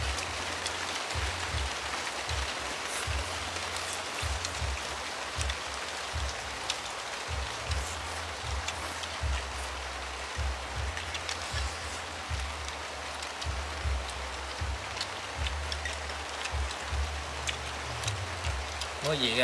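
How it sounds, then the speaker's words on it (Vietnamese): Steady rain falls outdoors in a rural Vietnamese setting, a continuous wash of patter with low rumbling gusts, while people talk faintly underneath throughout. "Mưa này đúng bài rồi."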